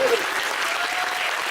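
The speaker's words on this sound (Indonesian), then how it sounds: "Boleh tepuk tangan." Audience applause during a speech by Anies Rasyid Baswedan, a brief steady wash of clapping at moderate distance, fairly soft, with no break across its short span.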